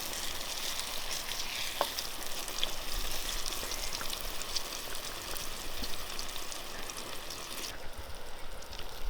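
Oil sizzling steadily in a pan while pig feet are cooked outdoors in Samoa, a dense, continuous hiss with occasional pops and crackles, close and even throughout.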